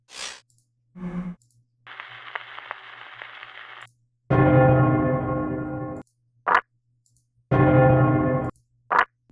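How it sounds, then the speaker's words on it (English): Bell sound effects from the video game American McGee's Alice play as separate takes: long resonant metallic bell tones ringing out and decaying, with short bursts and brief noisy clicks between them and silent gaps, no talking. "Load save C uses the same bell sound"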